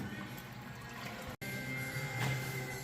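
Tractor oil drains through a hose into a bucket, a quiet, steady liquid trickle and gurgle that continues with only a brief break.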